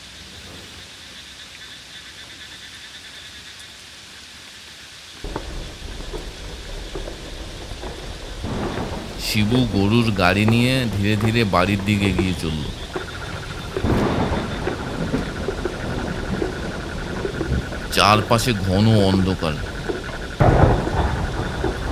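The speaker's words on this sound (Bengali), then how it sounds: "এই বৃষ্টিটাও এখন নামতে হলো।" Heavy rain pours steadily while two deep, rolling thunderclaps break out midway and near the end, with a voice narrating over the storm.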